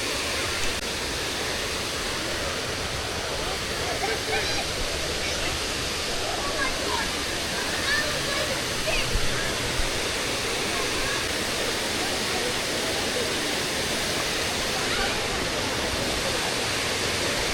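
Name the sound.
waterfall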